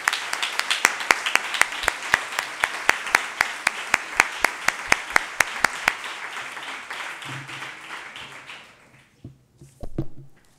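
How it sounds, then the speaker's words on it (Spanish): Audience at a talk claps in unison, a steady rhythmic run of sharp, evenly spaced claps over softer applause that fades out, followed by faint voices and shuffling. "para ellas un último aplauso y ya"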